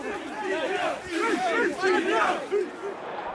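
A crowd of far-right protesters outside Parliament shouts and jeers, with overlapping raised voices and rising and falling yells continuing throughout, close and loud.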